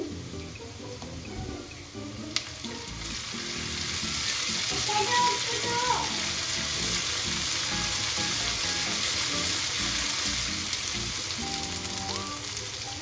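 Onion with ginger, garlic and chili paste fries in a pan, a steady close hiss of sizzling oil that swells after a few seconds, with a couple of faint clinks.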